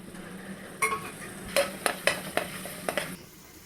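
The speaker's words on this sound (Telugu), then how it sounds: "కళాయి పెట్టుకొని ఆయిల్ అనేది వేసుకొని హీట్ చేసుకొని వెల్లుల్లి తురుము వేసుకుందాం" Grated garlic frying in hot oil in a kadai, a quiet sizzle under several sharp metal clinks and scrapes of a spatula stirring against the pan in uneven strokes.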